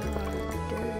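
Crops watered with a watering can in the farming game Stardew Valley, with a brief splashing pour of water, steady and close, lasting about a second.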